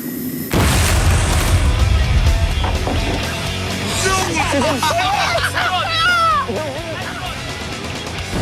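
An air bomb blows up a house: a sudden heavy boom erupts, followed by a sustained rumble of collapsing debris while a crowd of people chatter and shout over it.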